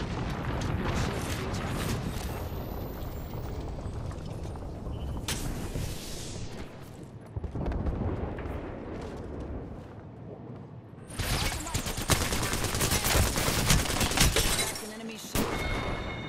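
Artillery strike from an Apex Legends match: a long run of heavy booms and shattering blasts, dense and loud throughout, with a brief lull and a fresh barrage of bright crashing impacts near the end, under occasional talk.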